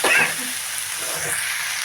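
Lote fish (Bombay duck) frying with spices in a hot pan, a steady close sizzle and hiss with a brief stirring scrape at the start, no speech.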